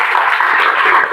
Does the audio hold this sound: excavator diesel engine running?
no